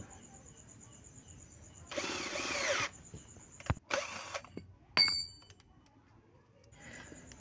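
A Zper power drill set to drilling mode at speed 1, heard in short bursts of whirring lasting about a second each, separated by quiet pauses, with a metallic clink and ding between runs.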